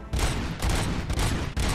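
Rapid gunfire bursts from a Robocop video game, loud and dense, arriving in three or four sustained volleys with brief gaps between them.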